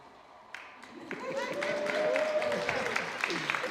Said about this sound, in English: I got an applause button too.